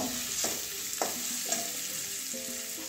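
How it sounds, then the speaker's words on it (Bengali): Spices with turmeric stir-fried in a pan for a stuffed pointed gourd dish with paneer filling: steady sizzling of oil with scraping strokes of a spatula recurring about every half second, close and alone with no talk. "ভালো করে কষিয়ে নেব, মশলাগুলো মিশিয়ে নেব।"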